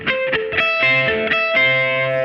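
Electric guitar picking a three-string minor triad shape with distortion and palm muting, a steady run of short chugging plucked notes with sustained ringing tones, loud and close, no talking.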